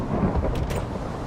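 A lightning storm's thunder in the GregTech: New Horizons modpack rolls as a deep, steady rumble, fairly loud, with a couple of brief crackling surges midway and no talking.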